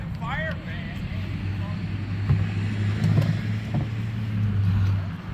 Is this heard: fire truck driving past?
yes